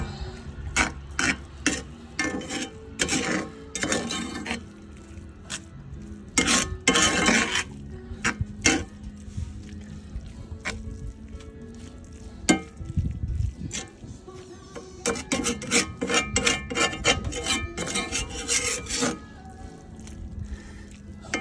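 Eggs being stirred in a cast iron pot, with repeated scraping and clinking strokes in irregular bursts and short pauses, close and fairly quiet, with a little talking now and then.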